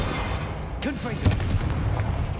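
A Confringo fire-blast spell from the Hogwarts Legacy game goes off with a booming, crackling burst in the middle of a dense, continuous game soundscape, followed by a sharper second impact.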